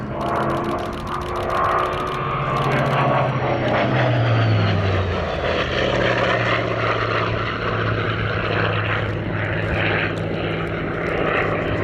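A Hawker Fury piston-engine propeller fighter drones loudly overhead at an airshow, its deep engine roar shifting in pitch as it passes, steady and close throughout.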